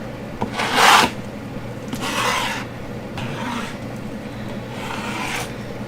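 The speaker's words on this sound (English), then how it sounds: "Get my scraper out here. And it's okay to scrape once in a while if you're not happy with it." A scraper drags across wet acrylic paint on a pour painting in about four separate rasping strokes, close and fairly quiet, with no talking.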